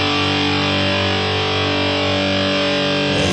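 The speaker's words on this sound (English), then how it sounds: "Let's just wind up the mega distortion." A heavily distorted electric guitar chord sustains loud and saturated, ringing out with a thick buzzing tone.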